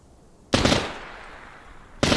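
Two bursts of automatic machine gun fire in the military game Arma 3, loud and close, the first burst trailing off into a reverberant echo before a second burst starts.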